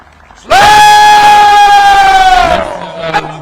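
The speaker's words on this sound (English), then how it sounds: "give the parade commander and the entire parade a standing round of applause" A parade crowd, at an independence anniversary event in The Gambia, erupts in a loud, sustained cheer lasting about two seconds before fading into murmurs.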